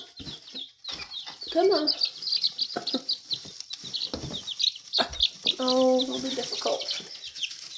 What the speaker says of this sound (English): So here's the little golden lace Wyandotte.